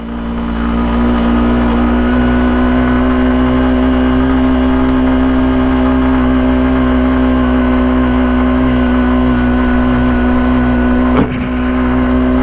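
A motorcycle engine labours steadily up a steep, rough mountain road, a loud close-up drone with a constant pitch and a brief clatter near the end.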